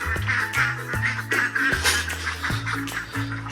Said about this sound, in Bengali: ঘরে দেখি হাঁসগুলোকে ছেড়ে দিয়েছে।